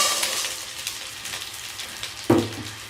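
Vermicelli fries in a pan over low heat while a spoon stirs it, a soft hissing sizzle with light scraping and one sharper clink near the end, no talking.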